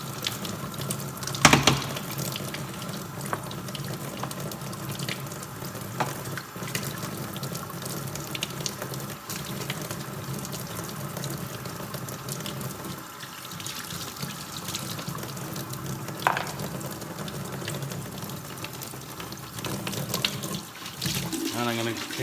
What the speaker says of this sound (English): Give the tools a bit of a rinse out.